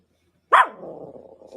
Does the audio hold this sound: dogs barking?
yes